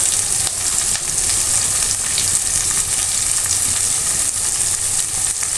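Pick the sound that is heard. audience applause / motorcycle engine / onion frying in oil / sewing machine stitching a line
onion frying in oil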